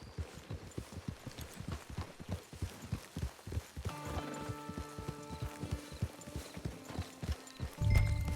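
Horse hooves clip-clop in a steady walking rhythm in Red Dead Redemption 2, near and distinct, with sustained musical tones joining midway and a louder thump near the end.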